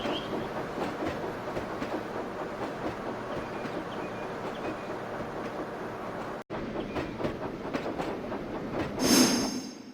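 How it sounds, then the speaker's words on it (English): Train rolling along rails in the Trainz 12 railway game, a steady rumbling hum with repeating clickety-clack from the carriages, a brief dropout near the end followed by a rising squeal. "With the rails humming and the carriages clattering behind him."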